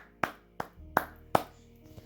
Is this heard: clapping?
yes